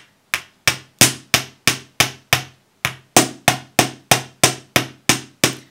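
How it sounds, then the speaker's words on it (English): A hammer strikes metal wire on a bench block in sharp, evenly spaced blows, a quick series, a brief pause, then another steady run, loud and close. "Now you'll notice that I'm just hammering random parts of the length"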